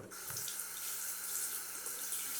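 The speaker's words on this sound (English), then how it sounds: "Always rinse it so the lubricating strip can work as it's supposed to." Tap water runs steadily into a sink while a 1978 Gillette Atra razor is rinsed, a close, even splashing flow lasting the whole moment with no talk.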